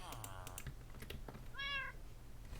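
An in-game cat in the Create mod lets out a short, clear meow amid scattered clicks and light clatter, with faint background hum throughout.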